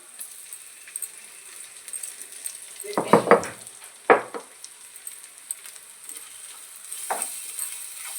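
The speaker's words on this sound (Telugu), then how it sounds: "ఇప్పుడు ఫ్రెష్గా దంచి పెట్టుకున్న అల్లం వెల్లుల్లిపాయ పేస్ట్ వేయాలి." Ginger garlic paste added to frying onions in a pan for chicken curry, giving a quiet sizzle with a few louder clattering bursts of spoon against pan midway.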